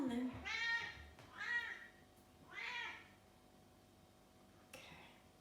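A chatty pet cat meows three times in quick succession, each call rising and falling clearly and fairly close, followed by a fainter short meow after a pause, with quiet room tone between the calls.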